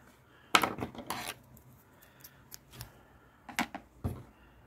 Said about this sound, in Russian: Теперь обрезаю нить здесь.